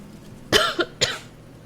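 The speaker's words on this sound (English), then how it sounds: "Can't stop coughing." Two sharp coughs in quick succession, close and fairly loud, with a brief rasp between them against a quiet room.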